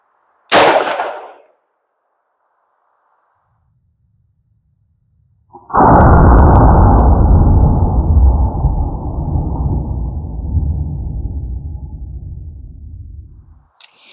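A Taurus Tracker .44 Magnum revolver fitted with G10 grips fires its final round outdoors: one sudden loud blast with a long rolling echo that decays over several seconds, preceded by a brief sharp sound.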